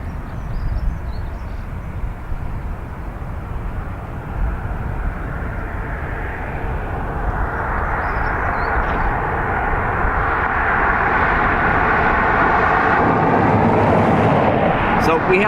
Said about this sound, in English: So we have a Max 8